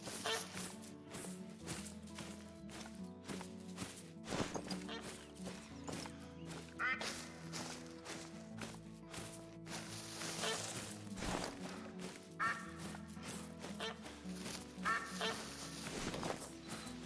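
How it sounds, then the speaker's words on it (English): Ambient geese honk and quack over busy game sounds on Ratatouille Coast, the repeated calls scattered through a dense, continuous backdrop of clicks and effects. "Do wish you could turn off the ambient geese noises on Ratatouille Coast."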